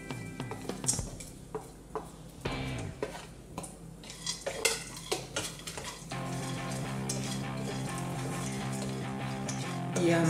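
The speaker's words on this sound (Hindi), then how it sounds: "ये कढ़ाई में हम बादाम और काजू को भून लेते हैं। इसे हमें ड्राई ही भूनना है" Almonds and cashews dry-roasting in a kadai are stirred with a metal spoon, producing repeated clattering scrapes and knocks against the pan, then a steadier rattling roll of nuts.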